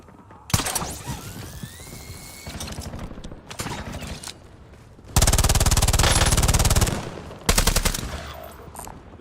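Gunfire in the Call of Duty Warzone video game comes in loud automatic bursts, with a long sustained stretch of rapid shots and several shorter volleys separated by brief quieter gaps.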